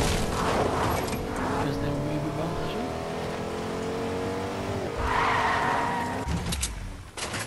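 A car skids and its engine revs in the Fortnite battle royale game, a loud, sustained tire squeal and motor drone over several seconds, with speech mixed in.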